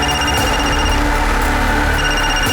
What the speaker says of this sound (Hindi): फोन है